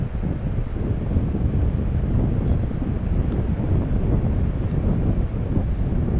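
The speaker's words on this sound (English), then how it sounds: "I feel really a lot of wind right now standing there" Strong wind roars at the water's edge at night and buffets the microphone in a dense, continuous rumble. Waves can be faintly heard underneath, and no one speaks.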